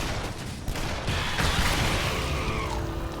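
Gunfire in the Shadow Warrior shooter game on PS4, a loud, dense burst of shots and impacts running continuously through the whole stretch with no pause.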